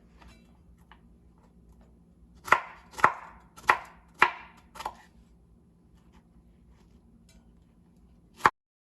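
Cauliflower chopped with a knife on a chopping board: five sharp, evenly spaced knocks in quick succession, then a pause and one final chop, close and crisp against a quiet room.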